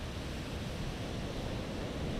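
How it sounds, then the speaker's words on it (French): Ocean waves on a windy beach in Palawan, a dense continuous roar of surf with low rumble and wind buffeting the microphone, loud and close with no voices. "Vous voyez qu'il y a des vagues."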